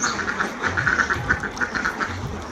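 A crowd of ducks on a commercial farm of about five hundred birds quacks steadily in a busy, overlapping chorus, fairly close and continuous with no talking.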